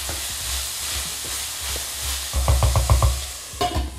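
Diced chard stems fry in a hot pan, a soft steady sizzle joined by a burst of scraping, stirring strokes near the end, close and moderately loud.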